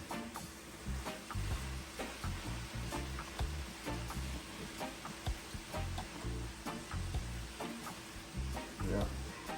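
A spoon stirs callaloo and saltfish in a sizzling pot, scraping and clacking rhythmically over a steady frying hiss, close and moderately loud.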